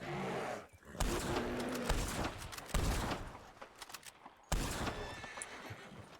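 A horse neighs loudly several times, mixed with bursts of gunfire and clattering hooves, all close and busy.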